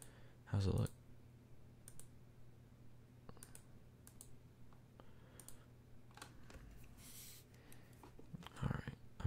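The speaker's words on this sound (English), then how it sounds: "I'm using the mouse sometimes, like on this part. That's probably why you hear the clicking." Computer mouse clicks while drawing, heard as sparse, faint, sharp ticks scattered at irregular intervals over a quiet background, with a louder burst of handling noise near the start and end.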